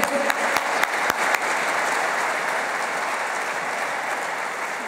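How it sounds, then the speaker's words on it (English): An audience applauds after a musical performance at a Brisbane concert, a few sharp individual claps at first, then a dense, even wash of clapping that slowly tapers off. "another rousing applause for that amazing performance"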